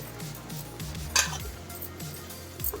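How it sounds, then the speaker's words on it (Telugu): A spatula stirs moringa leaves frying in a pan over a low flame, with garlic and fresh coconut. Quiet, rhythmic scrapes sit over a faint sizzle, with one sharper clink of metal partway through. "ఇప్పుడు ఈ మునగాకునంతా కలుపుకుందాం మనం సిమ్లో పెట్టేసుకొని కలిపేసుకుందాం"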